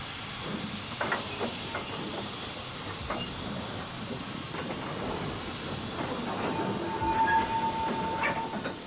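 Leaky Lancashire and Yorkshire 0-6-0 steam locomotive working a pickup goods train at a goods yard, with a steady hiss of escaping steam and rolling wagon noise, scattered knocks and a brief high whistle-like tone near the end.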